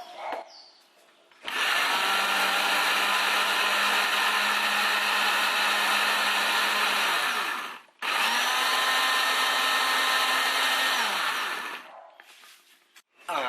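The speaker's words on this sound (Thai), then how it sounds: "ปั่นเลยครับ" An electric blender whirring through fermented soybean dipping sauce: a loud, close, steady motor roar that runs for about six seconds, cuts out briefly, then runs again for four more before stopping.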